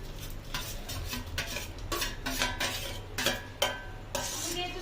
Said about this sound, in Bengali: তো আমি এই চিকেনটাকে এবারে এর মধ্যে দিয়ে দেবো।